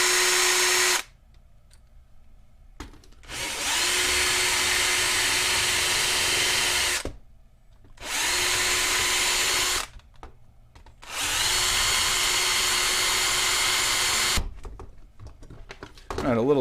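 A hot drill bit melting through plastic on a 9XR radio, several bursts of loud high whine lasting a few seconds each, separated by short silent gaps, with a voice heard in the pauses.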